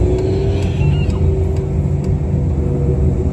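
A Ford Mustang GT idles with a steady, rumbling low engine drone at a car show, loud and continuous with a faint higher whine above it.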